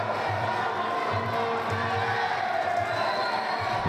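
At a professional Muay Thai bout, the crowd chants fighter Gabriel's name in a continuous, rhythmic swell of voices, moderately loud and distant, with cheering mixed in.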